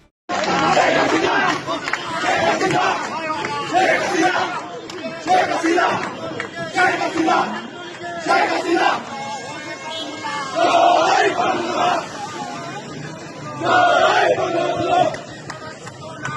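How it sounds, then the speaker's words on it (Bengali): Chhatra League marchers chant together in a loud, dense crowd on a Dhaka street, rhythmic shouted slogans rising and falling over steady crowd noise for the whole stretch. "রবিবার খাস ঢাকার গুরুত্বপূর্ণ এলাকায় মিছিল করল ছাত্রলীগ"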